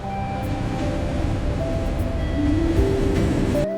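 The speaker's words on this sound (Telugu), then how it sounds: "కాచిగూడకు వెళ్ళవలసిన ట్రైన్ 6వ ప్లాట్ఫామ్ లో వేచి ఉంది" A train waits at a railway platform for Kachiguda, with a loud continuous rumble and steady humming tones, then stopping abruptly near the end.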